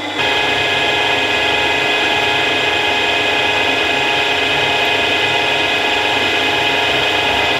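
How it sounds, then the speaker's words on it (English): A 16mm drill bit turns slowly while cutting a counterbore, producing a steady, loud grinding whine with a constant tone and no pauses. "this is a 16mm drill bit, running it fairly slow"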